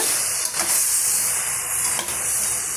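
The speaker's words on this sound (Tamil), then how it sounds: "இப்போ இந்த வெண்டைக்காயும் சேர்த்து ஒரு 2-3 நிமிஷத்துக்கு நம்ம வறுத்து விட்டுக்கலாம்" Okra (ladies finger) frying in a pan while being stirred, making a steady broadband sizzle with a few brief stirring scrapes, close and continuous, with no voices.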